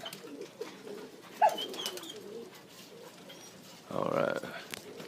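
Pigeons in a breeding loft give a few soft coos with a brief flutter, fairly near, over quiet background and faint talk.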